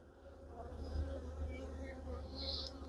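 Honeybees droning steadily around an opened hive during an inspection of brood frames, a low continuous buzz filling the whole moment, with faint background activity and no clear talk.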